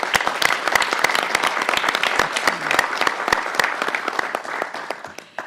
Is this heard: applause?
yes